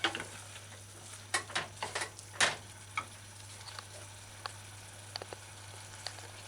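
Lo mein noodles are stirred in a frying pan, with a steady low sizzle beneath a series of close utensil scrapes and taps that come thick at first, then thin to sparse clicks.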